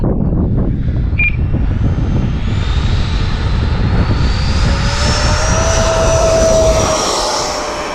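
A MiG-29 jet engine roars loudly and steadily during takeoff, a dense rumble with a high whine that slowly rises in pitch before easing slightly at the end.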